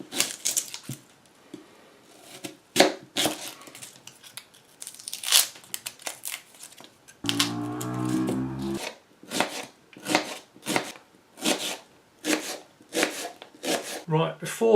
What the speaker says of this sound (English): Next I'm going to slice the onions.